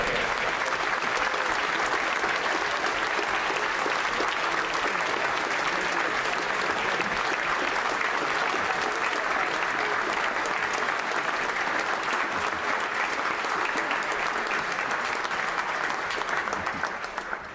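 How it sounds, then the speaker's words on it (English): Sustained applause fills the UK House of Commons chamber during Prime Minister's Questions, a dense, steady wash of many hands clapping at once that carries on without pause before thinning slightly at the very end. "And that's the only reason I allow clapping."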